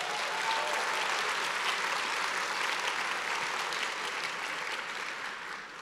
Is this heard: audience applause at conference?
yes